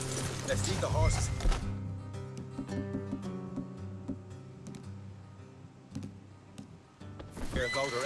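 A horse whinnies loudly in the video game Red Dead Redemption 2, a shrill neigh at the start and another at the end, with game dialogue and a steady background score in between.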